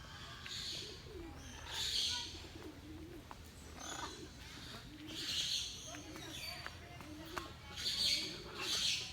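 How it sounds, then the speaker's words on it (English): Parrots and other birds at the Parrot Mountain aviary in Pigeon Forge, Tennessee, give repeated squawks and calls at moderate distance against a busy background murmur. "Parrots."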